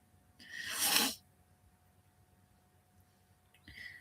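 A single close, loud sneeze bursts out and fades within about a second. A quiet room follows, then a softer, brief breathy sniff or exhale near the end.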